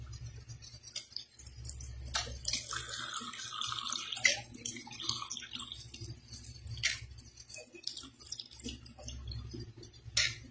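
Water pours and splashes softly into a pet water dish with low trickling and gurgling and occasional clinks, close and fairly quiet. No voices.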